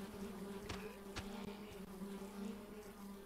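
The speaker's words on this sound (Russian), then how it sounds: "Вот эти пчелы пускай съедают их." A swarm of bees in the Swamp Attack mobile game makes a continuous droning buzz with steady low pitched hum and a few sharp clicks, moderately loud and without talk.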